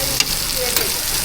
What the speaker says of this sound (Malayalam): ഇത് മുട്ട ഫ്രൈ.